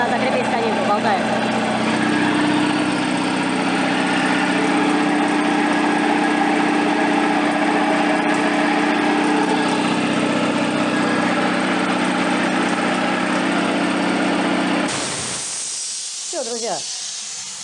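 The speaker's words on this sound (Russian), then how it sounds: "все, я вам запустил на шестерочке, не напрягаясь, он все накачал" A homemade U43102 air compressor running on 220 volts gives a loud, steady mechanical drone with airy hiss that holds for about fifteen seconds, then cuts off abruptly into quieter, brief background sounds.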